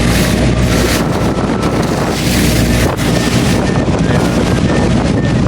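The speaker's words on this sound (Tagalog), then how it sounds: "lumalakas yung alon natin dito kasi nag-high tide na" Strong sea waves at high tide break around a boat heading to an island off Baybay, Leyte, with loud, constant wind and water roar and microphone buffeting.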